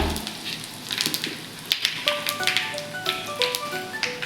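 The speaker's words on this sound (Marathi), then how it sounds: "तेल आपलं थोडंसं गरम झालं त्यामध्ये आपण घालून घेऊया मोहरी थोडेसे जिरे हिंग थोडासा" Mustard seeds, cumin and asafoetida hit hot oil and crackle with quick close popping taps scattered over a soft sizzle, growing busier partway through.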